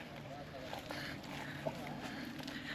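A boat on the Krishna River in high floodwater, heard as a steady low rumble of water and wind under a faint voice, with no clear engine.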